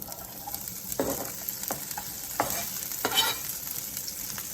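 Cabbage sautéing in a hot pan, a steady sizzle and frying hiss broken by several scraping stirs, fairly close and moderately loud, with no one talking.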